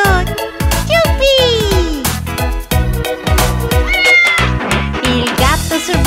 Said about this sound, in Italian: Il gatto sul bus fa miau, miau, miau.